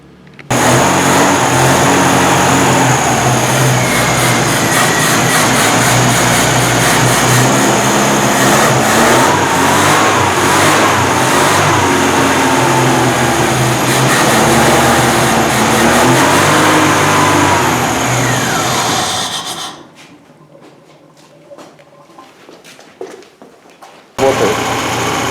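A rebuilt UZAM 1.7 car engine runs on gas after its overhaul, slightly rough and in need of new spark plugs. Its loud, continuous running with small rises in revs lasts about twenty seconds, then cuts out to near quiet.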